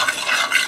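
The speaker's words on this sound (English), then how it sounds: "Give that a mix." A brief scraping stir through browned taco meat and Rotel tomatoes in a hot pan, a soft spoon rasp over a continuous close sizzle.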